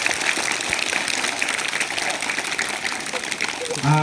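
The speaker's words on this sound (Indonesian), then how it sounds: "Oh, baik, tepuk tangan dulu, tepuk tangan." Applause from an audience at a school road-safety talk about crossing rules and electric bicycles, a dense steady clapping wash lasting throughout, with a brief tonal sound near the end.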